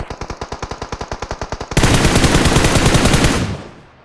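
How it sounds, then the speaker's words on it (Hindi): Rapid automatic gunfire in a battle-royale shooter game, a steady burst of evenly spaced shots for nearly two seconds, then a dense, loud volley that holds before fading out. "पीछे से गोलियां पड़ेंगी तगड़ी वाली।"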